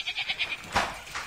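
A person's voice imitates a cow mooing in a New Year's greeting, giving a quick string of wavering bleat-like pulses followed by a louder, rougher drawn-out call.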